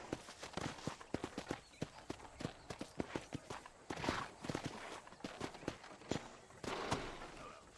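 Horse hooves clip-clopping in Red Dead Redemption play as a fast, even run of hoofbeats, close and steady throughout, with faint rumbling in the background.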